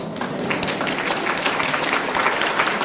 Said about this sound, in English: he deserves a hand clap for that one